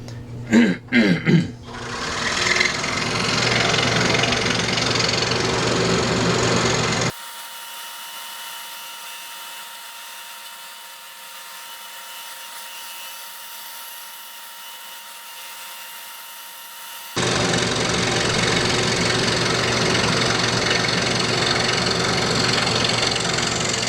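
Saw blade cutting out the centerpiece of a small wooden box for a guitar pick tray, a steady close buzzing rasp after a few sharp knocks, dropping to a low hum midway before the cutting resumes.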